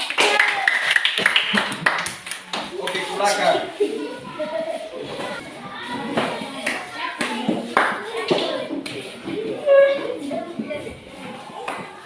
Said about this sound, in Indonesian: Kita memberi apresiasi atau tepuk tangan untuk kelompok C